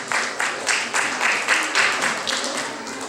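An audience at a spelling contest claps for a winner, a short burst of brisk, steady applause over about three seconds, fairly close.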